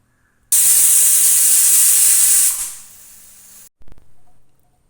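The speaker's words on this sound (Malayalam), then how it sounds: "ഇനി ഒരു ആറല്ലെങ്കിൽ ഏഴ് വിസിലോളം നമുക്കൊന്ന് കേൾപ്പിച്ച് നന്നായിട്ടൊന്ന് വേവിച്ചെടുക്കാം" A pressure cooker on the stove with beef inside lets off one loud, forceful hissing steam whistle that lasts about two seconds. The whistle then drops to a softer hiss, cuts out, and is followed by a brief puff.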